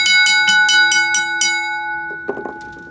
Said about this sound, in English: here's what the bell sounds like